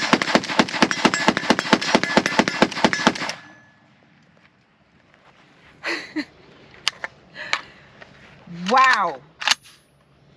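A PSA AK105, an AK-74 pattern rifle with an ALG trigger, fires 5.45x39 rounds in a quick string of about a dozen loud, evenly spaced shots, then stops; afterward someone speaks briefly and scattered knocks and handling noises follow.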